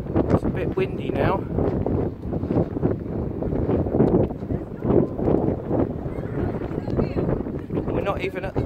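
Strong wind rumbles and buffets the microphone continuously on a coastal clifftop headland at Seaford Head while a person talks underneath.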